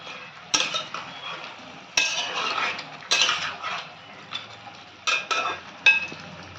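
Chicken posto being stirred in a cooking pot, with several distinct clanks of a metal spoon against the pot followed by short bursts of scraping and stirring, close up and with no talking.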